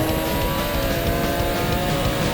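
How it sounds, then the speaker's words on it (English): A car in GTA San Andreas hits a nitrous boost and races flat out, giving a loud, continuous engine roar with tire noise and no breaks or voices. "When you hit the nitrous and the car starts flying down the"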